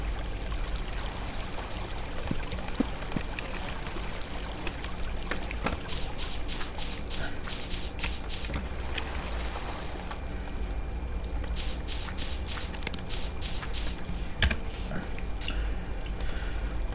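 Flowing water in the block-building game Minetest, a steady trickling, gurgling stream that runs continuously at moderate level, with brighter splashy bursts coming and going throughout.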